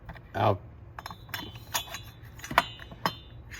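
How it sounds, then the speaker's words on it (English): A Husqvarna 371 XP chainsaw cylinder slides onto its ring-less piston during engine assembly, giving a soft scraping thump followed by a few sparse, light metallic clinks and taps up close against a quiet background. "So I'm just gonna put the cylinder on just like that"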